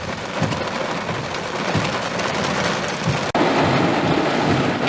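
Heavy rain blows in sheets during a severe Sunday thunderstorm, a loud, steady hiss pounding on surfaces with a few low rumbles underneath.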